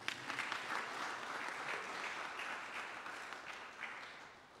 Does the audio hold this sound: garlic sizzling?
no